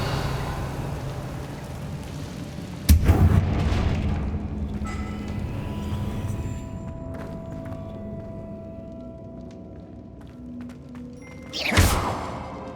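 Bombarda spell explosions in Hogwarts Legacy, two heavy booming blasts several seconds apart with rumbling debris trailing after the first, over a steady rain-like ambient hiss.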